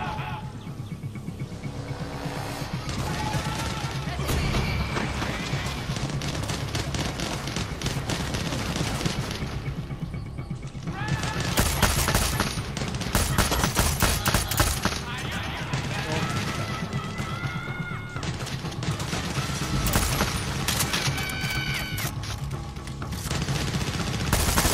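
Military gunfire in the video game Far Cry 6, rapid bursts and volleys layered over a loud, continuous mix of game sound and music that runs the whole time without a break.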